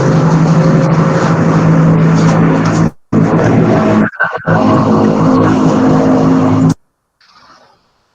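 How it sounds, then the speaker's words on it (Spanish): A motor vehicle, taken as a motorcycle, roars loudly and close for several seconds with a steady engine drone, cuts out abruptly twice, then falls to near silence at the end. "estaba esperando que pasara la motocicleta"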